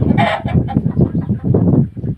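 Chickens clucking close by on a rural Thai farm, a busy run of short, rhythmic clucks and squawks with no talk over them.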